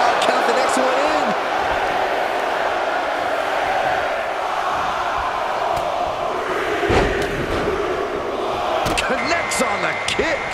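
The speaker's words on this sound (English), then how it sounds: "Listen to this crowd count the next one in." A wrestling arena crowd at a 1995 Royal Rumble match roars steadily in the distance, with a sharp thud from the ring partway through, while a commentator talks over the noise.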